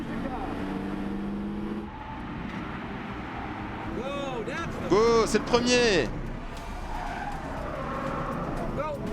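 A race car driven at full power around a track during a training session, its engine roaring steadily with a brief loud pass and tire squeal in the middle, while a coach's voice talks over it throughout.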